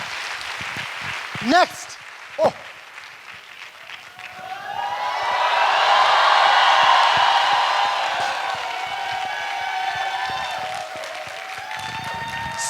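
An audience at a motivational talk bursts into applause and cheering that swells loudly, holds, then eases off. Someone speaks briefly before the clapping begins.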